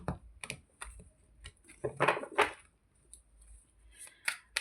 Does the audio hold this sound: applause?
no